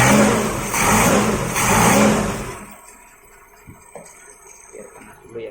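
A Suzuki Katana engine warms up with a loud, rough, close idle roar that cuts off abruptly about halfway through, leaving quieter scattered handling noises.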